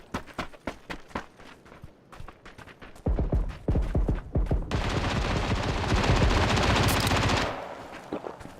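Gunfire in the video game PUBG: scattered single shots give way to a dense burst of rapid automatic fire lasting several seconds, then more isolated shots, loud and punchy, with no voices.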